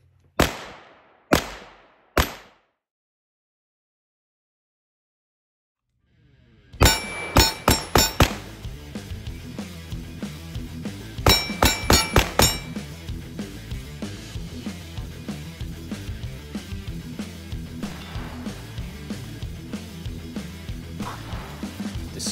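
Springfield Prodigy pistol firing at an outdoor shooting range, with a few sharp shots, a pause, then quick strings of loud reports and steady popping from other shooters in the background.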